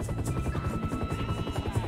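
A helicopter in a video game mission, with a steady close rotor chop and engine drone throughout.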